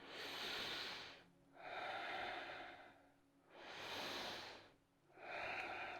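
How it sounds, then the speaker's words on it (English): Slow, deep breathing during a downward facing dog yoga pose, three long, audible inhale and exhale cycles in an even rhythm, close and alone. "Take 3 breaths."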